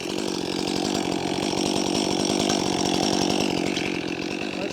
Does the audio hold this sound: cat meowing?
no